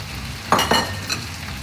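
Shallots frying in a pan: two quick bursts of sizzling as they are added or stirred, then a softer steady crackle.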